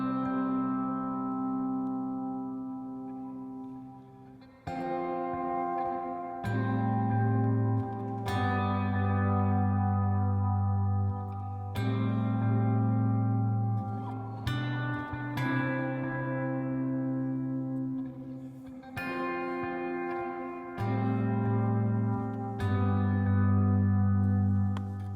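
Finger-picked electric guitar playing a slow worship-song verse part, its clean notes blooming under an aggressive reverb, a dotted eighth delay with a single repeat, and compression. Each plucked phrase rings out and decays smoothly into the next, with no voices.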